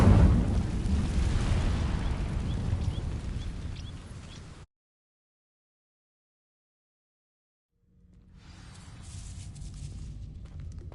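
A burst of fire from the Incendio spell igniting dry vines in Hogwarts Legacy, a loud roaring crackle that fades out, then silence for a few seconds before a quieter ambient rumble with faint crackles returns.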